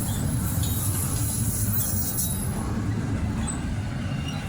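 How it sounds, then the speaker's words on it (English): Norfolk Southern intermodal freight train passing a railroad crossing, a steady loud low rumble of rolling cars with a faint high wheel squeal, continuous throughout with no talking. "Well, there's the first train."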